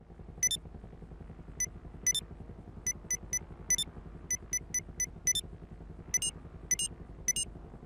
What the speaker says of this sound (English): In GTA Online, there's a random glitch that distorts your phone's sound effects.